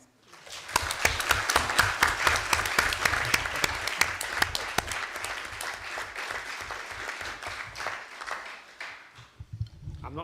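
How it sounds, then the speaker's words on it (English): A room full of people at a health board meeting applauds steadily for several seconds, dense clapping that builds quickly and then tapers off near the end. "You're the first person to get a round of applause at the board."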